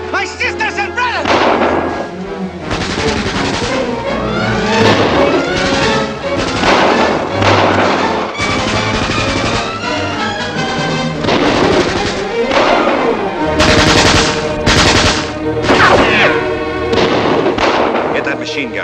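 Heavy battle gunfire with thudding blasts and rapid bursts, fitting a machine gun firing in the war film Ten Tall Men, loud and nearly continuous, with voices faintly mixed in.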